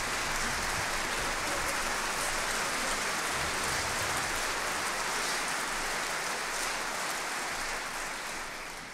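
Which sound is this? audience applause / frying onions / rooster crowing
audience applause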